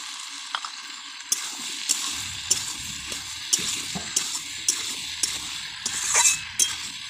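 Potatoes and peas sauté with spices in a pan, a steady sizzle broken by repeated sharp scrapes and clinks of a spoon stirring at a quick, regular pace, close and moderately loud with no talk.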